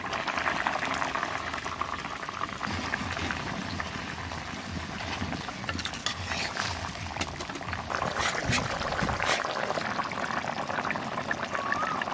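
Hilsa fish curry bubbles steadily in a pot on the stove, a continuous close simmering and boiling hiss with a faint liquid stir near the end.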